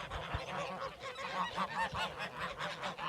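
A flock of geese honks repeatedly in overlapping, irregular calls on a snowy farm, moderately close with a faint open-air background and no speech.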